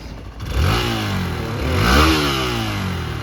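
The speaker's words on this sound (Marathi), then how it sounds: "रेस देतो रेस" A motorcycle engine revs up outdoors near a hillside temple, the rising and falling drone loud and close, swelling twice over a steady idle with no talking.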